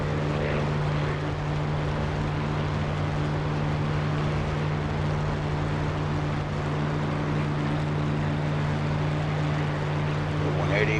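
A Spitfire Mk IX's Merlin-type piston engine in the DCS flight simulator, throttled back to a steady, even drone with a low hum, continuous and fairly loud for the whole stretch, with no other sounds over it.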